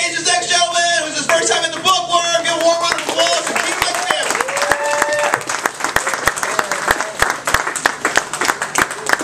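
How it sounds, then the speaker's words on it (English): A comedy open-mic crowd at the Bookworm Bakery & Cafe applauds warmly, with some whooping voices early on and then a thinning patter of individual claps. The room sounds close and lively. "Give a warm round of applause"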